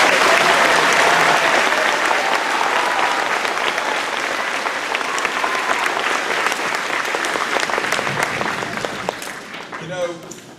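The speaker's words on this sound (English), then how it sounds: "if y'all will give them one more round of applause." Sustained applause from an audience honoring veterans at a Veterans Day program in Saltillo and Guntown: a loud, dense crowd of clapping hands that holds steady for several seconds before tapering off near the end.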